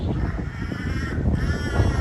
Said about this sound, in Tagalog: Ay, ang laki ng uwak.